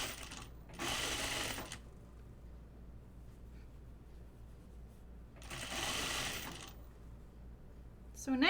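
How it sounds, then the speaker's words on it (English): A sewing machine hems fabric for a button-up shirt in two short bursts of close, fast whirring stitches separated by quiet handling, with a faint sound starting at the very end. "I'm gonna hem this with just the blue line barely showing"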